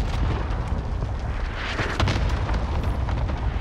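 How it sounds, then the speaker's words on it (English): Cluster strike explosions in Call of Duty, a dense continuous rumble of overlapping booms with a sharper blast near the middle, loud and close, with no talk. "Cluster strike away."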